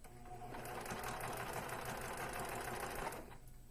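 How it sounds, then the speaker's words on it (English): A sewing machine stitching a fabric face mask, a steady close whirring run of fast stitches lasting a few seconds before it stops abruptly, with no talk. "I'm going to slip that pin out and start sewing."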